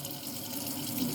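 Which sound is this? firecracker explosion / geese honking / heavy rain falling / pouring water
pouring water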